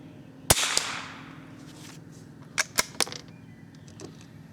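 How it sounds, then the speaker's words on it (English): CCI subsonic 45-grain .22 LR hollow-point rounds fired at a target: two sharp, fairly quiet cracks about a quarter second apart, a pause, then two or three more quick reports, with light background noise between. "I'm going to fire a couple of rounds into that same target"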